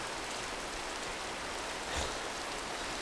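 Minecraft rain falls as a steady, even hiss of light rainfall, constant throughout with a brief soft swell near the middle and no voices.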